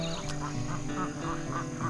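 Ducks quack in a garden duck pen, a steady run of repeated calls close by with several birds overlapping against a busy background.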